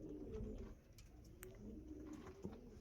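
Andhra Kalsira and Lalsira pigeons in a loft coo in soft, low, repeated phrases, mixed with a few faint chirps and flutters. The sounds are quiet and fairly close, with no speech.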